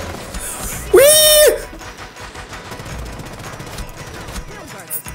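Bursts of gunfire crackle through a Rainbow Six Siege match, steady and fairly loud, with a brief shrill tonal game effect near the start and a voice talking over the shots.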